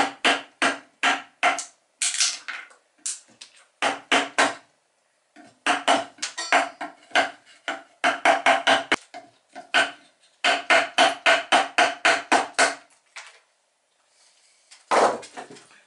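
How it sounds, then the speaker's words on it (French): Wood chisel being struck and pushed into the wooden hull of a toy boat, giving sharp, close taps in quick rapid clusters separated by brief pauses, loud and crisp with no talking. "Ensuite, je prends un ciseau."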